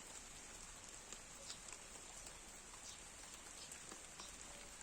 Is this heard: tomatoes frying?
no